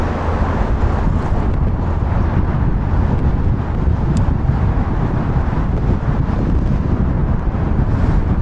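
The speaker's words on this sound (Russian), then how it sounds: "По флагам видно, какой сильный ветер сегодня." Steady, roaring wind buffets the microphone at a botanical garden in Crimea, a constant low rumble with no pauses and no voices.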